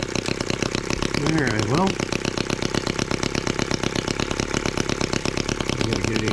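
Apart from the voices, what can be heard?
M14 twin cylinder tractor engine running under load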